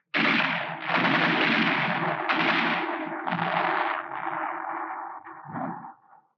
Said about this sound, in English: they encountered mines and automatic fire from pillboxes.